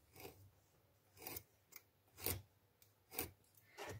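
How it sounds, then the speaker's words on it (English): A knife slicing leather along a ruler: five separate short scraping cuts at roughly even intervals, each a soft close rasp against quiet background, with no voices. "So I'm just going to slice with this knife."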